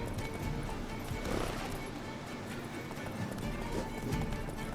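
Horse galloping in the video game The Witcher 3: Wild Hunt, a continuous busy run of hoofbeats mixed with dense game sound, steady and fairly loud throughout.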